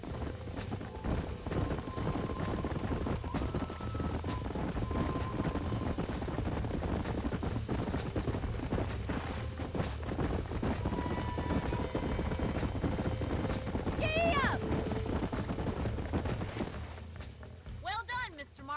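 Horses clip-clopping at a ranch in the Western video game Red Dead Redemption, a steady run of hoofbeats under a busy, dense game mix with music and voices.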